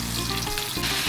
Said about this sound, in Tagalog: So, now yung beef na naman yung sinuprito ko. Light lang. Yung konting prito.